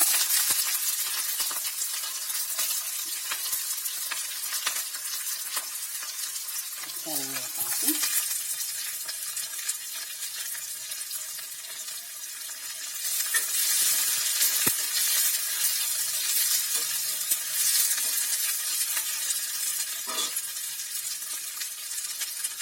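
Green chilies and onion pieces fry for a bitter gourd stew, a loud, continuous sizzle with occasional stirring scrapes and a brief clink partway through.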